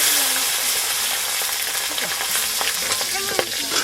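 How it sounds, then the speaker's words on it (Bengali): Black nigella seeds hit hot oil in a village kitchen and set off a loud, dense crackling sizzle, close and continuous, with faint background voices beneath. "তেলে আমরা কালো ফোড়ন দিচ্ছি।"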